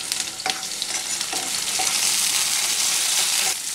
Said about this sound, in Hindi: हम इसमें चॉप टोमेटोज़ डालेंगे और हल्का सा ड्राई रोस्ट करेंगे इसे